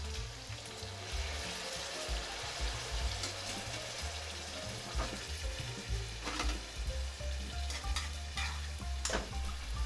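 Pasta sauce for a mild Japanese-style shirasu peperoncino sizzles and fries in a pan with herbs and unsalted butter, with a steady crackle, scraping stirs and a few sharper clinks throughout.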